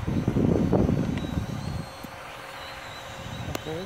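X6050 quadcopter drone flying and flipping at night in a windy snowstorm, its motors whining and surging loudly at first, then settling to a steadier buzz, with wind gusts and occasional faint voice.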